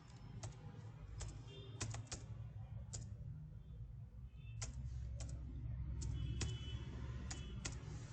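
Someone types an email address on a computer keyboard with scattered, irregular key clicks, sometimes in quick pairs, heard close but soft over a low, steady background hum, with no talking.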